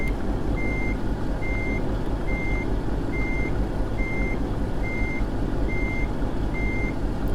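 Steady evenly spaced reversing beeps from a backing truck hauling a trailer in American Truck Simulator, repeating alone over a constant low engine rumble at a distribution center.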